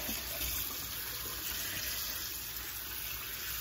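Catfish being rinsed under running water for pepper soup, a steady close gush of tap water pouring into a sink without pause.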